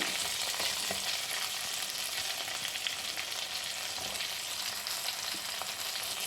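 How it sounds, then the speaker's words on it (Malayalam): Cucumber pieces and chillies fry in a pan for a Kerala pulissery, giving a steady, dense sizzle with faint stirring clinks, close and continuous with no voices. "മുളക് ഏകദേശം ഒന്ന് വഴന്നു വന്നിട്ടുണ്ട് ഇനി ഞാൻ ഇതിലേക്ക് ഇട്ട് കൊടുക്കുന്നത് വെള്ളരിക്കയാണ്"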